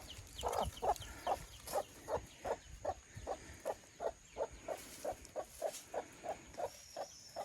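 Chickens clucking in a steady rhythmic series of short, evenly spaced clucks, moderately faint, with no voices.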